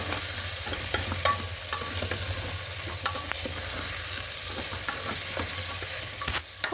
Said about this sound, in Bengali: এবার সব কিছু খুব ভালো করে একটু কষিয়ে নেব।